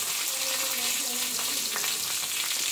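Mustard seeds and curry leaves crackle and sizzle in hot oil while a tempering is cooked for a vegetable dish, a steady close frying hiss with scattered sharp pops throughout and no talking.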